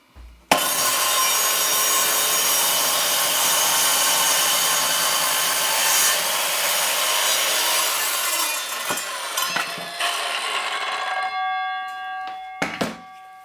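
An Evolution Fury 1B circular saw rips through a piece of scrap 3x2 timber, a loud, steady whining cut that holds for about ten seconds before the blade spins down, with a few clunks at the end.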